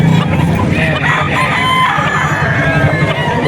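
A hennie rooster crows at a busy seller's market, the call ringing over a dense background of other clucking and crowing fowl, close and loud for the whole stretch.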